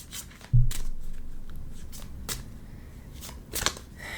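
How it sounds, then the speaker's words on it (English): Playing cards riffle and flutter in quick bursts up close, with soft taps and shuffling noises between them. "just do a very quick shuffle."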